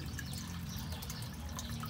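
Strong steady flow of water from a drilled well, a continuous broadband rush with low rumble, close and even throughout with no talking.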